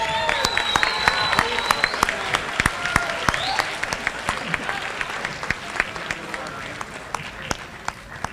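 Applause at a school awards assembly as students are honored, a dense crowd clapping steadily throughout with sharp individual claps standing out and a voice speaking over it.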